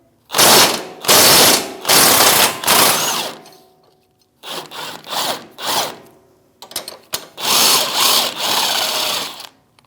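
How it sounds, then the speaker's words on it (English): A ratchet wrench and 21mm socket work a lower control arm bolt loose on a 2016-2025 Chevrolet Malibu's rear suspension. Loud, close bursts of rapid clicking come in several runs separated by short pauses, with no talk. "we're going to remove our lower control arm knuckle to control arm bolt, 21mm wrench and socket"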